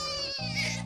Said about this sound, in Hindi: देखो तुम्हारा बच्चा बहुत रो रहा है